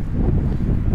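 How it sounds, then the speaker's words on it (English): Wind blows outdoors in Kalmykia, a steady, close, low roaring buffet across the microphone with no talk, lasting about a second. "It's windy."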